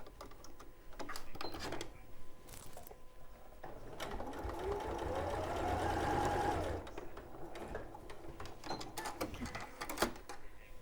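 A sewing machine runs a seam on a bag, close and steady, with a rising whirring motor burst in the middle, short starts and stops, and handling clicks around it.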